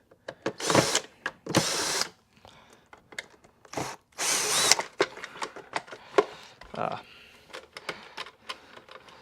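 A power drill backs screws out of the motor housing of a Hoover Windtunnel S3641 canister vacuum, with several short whirring bursts up close, separated by pauses filled with handling clatter and a voice.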